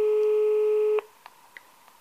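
A telephone busy signal sounds as one steady tone for about a second and then cuts off, followed by faint clicks on the line while a call to a medical appointment line in León, Spain goes unanswered.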